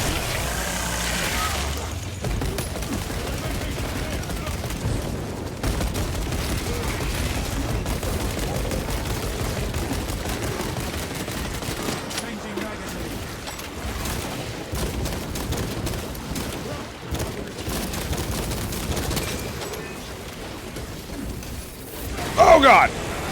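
Grenade blasts and rapid gunfire in Space Marine 2 form a dense, continuous barrage of shots and bursts for the whole stretch, ending in a louder burst near the end.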